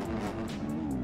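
A Honda dirt bike engine revs in the MX Bikes video game on a supercross track, a steady droning buzz held throughout one short burst.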